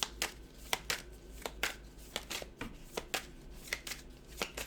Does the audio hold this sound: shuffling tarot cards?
yes